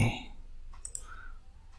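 Computer mouse clicks during a PowerPoint tutorial, a few small, faint, quick clicks in close succession over quiet room hiss.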